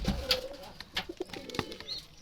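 Wild Jalali pigeon chicks cooing softly nearby, a few short low coos with faint rustling, quiet and close, no talking.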